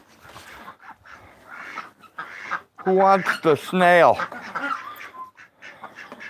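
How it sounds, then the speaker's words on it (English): A hoarse white chicken lets out raspy, strained clucks and squawks close by on a wet farm, mixed in with people talking over it. "Is that one of those chickens that loses its voice?"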